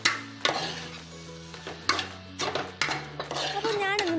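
Tomatoes get stirred into a chicken curry in a pan. The spoon scrapes and clinks against the pan in uneven strokes over a low hum, and a faint sizzle comes through, all close by.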